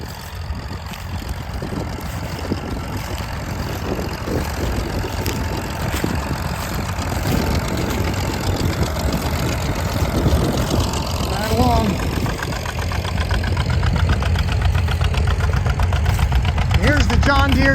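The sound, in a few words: 1939 Farmall M tractor engine pulling a two-bottom plow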